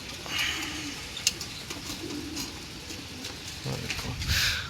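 Pigeons coo softly in low, rounded notes, with wing flutters and faint background noise.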